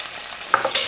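Escarole frying in oil in a pan: a steady close sizzle with a couple of sharp spatula clicks and a brief flare of hiss near the end, all within a second and with no voices.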